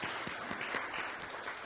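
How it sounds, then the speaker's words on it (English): An audience at a Hindi Divas 2024 celebration claps together in dense, steady applause that fills the whole moment at an even, close level. "So I want to say big applause from all of you for Malaji"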